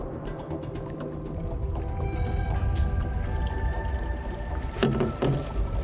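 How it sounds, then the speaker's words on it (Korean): Spawning croaker fish give low croaking and grunting calls underwater off Korea's west coast, repeating irregularly beneath a steady watery rumble, with a few clicks and splashy bursts near the end. "산란기의 민어는 마치 개구리처럼 요란하게 울어댄다"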